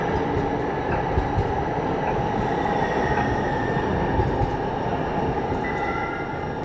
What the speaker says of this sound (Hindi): यहाँ अभी मेट्रो भी चलती है, ट्रेन्स वगैरह चलती हैं।